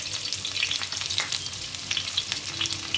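Half an onion fries in hot oil for dal chawal, making a continuous crackling sizzle close by with busy little pops throughout. No voices are heard.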